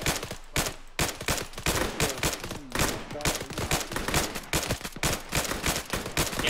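Bursts of video game gunfire from Arma 3 crack out in rapid, overlapping volleys: loud, repeated shots with short gaps, like a sustained firefight.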